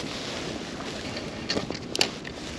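Wind buffets a small fishing boat on open water, a constant rushing noise against the microphone with a couple of brief louder gusts and knocks near the end.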